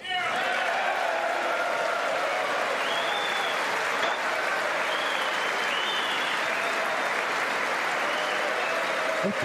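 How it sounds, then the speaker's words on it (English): Sustained applause in the House chamber during the 2019 State of the Union address, a dense, continuous roar of many hands clapping with faint voices and cheers mixed in. "Clapping at that one too."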